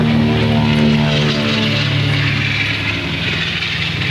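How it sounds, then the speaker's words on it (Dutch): Loud propeller drone of a B-25 Mitchell bomber taking off at Deelen air base, a strong harmonic engine roar that stays steady and then slowly thins as the aircraft moves away, with no voices. "Staat nu aan de kop van de baan en klaar voor de take-off."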